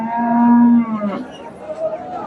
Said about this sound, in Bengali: এই যে এখানে একটা গাভি দেখেন ক্রোসের গাভি